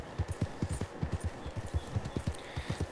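Horse hooves clip-clop at a steady riding gait in the Red Dead Redemption 2 video game, a close, regular thudding rhythm of hoofbeats with no talking over it.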